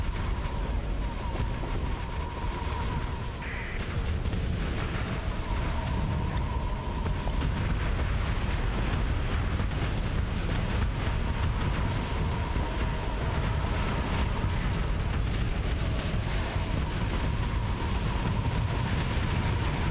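Missile fire and explosions in the space combat game Starsector form a dense, continuous roar of booms and rumbling blasts that stays loud and steady throughout.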